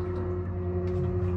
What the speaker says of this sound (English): You can also hear some fan noise from the Multiplus